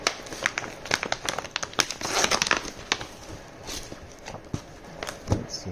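A taped package of Japanese baseball cards and memorabilia is pulled open up close: loud crinkling, tearing and crackling plastic in quick irregular bursts, no voice heard.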